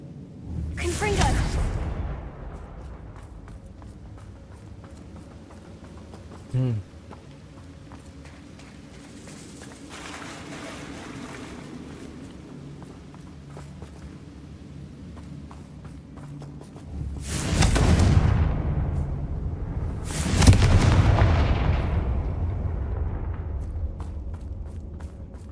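Hogwarts Legacy gameplay with a Confringo blasting spell: two loud, near whooshing bursts with booming low ends sound late on, following an earlier burst and footsteps over a low ambient bed, with spoken lines in between.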